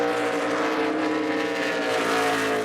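Race trucks roar around a road course during the 2013 Chevrolet Silverado 200, engines droning loud and continuous as one truck spins its tires coming off a turn.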